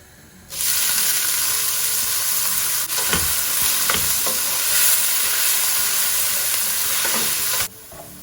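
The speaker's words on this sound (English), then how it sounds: "Once it's sizzling, I'm going to add the chopped up onions." Chopped onions hit hot oil with a sudden loud sizzle that crackles and hisses steadily, punctuated by a few stirring clacks, then cuts off.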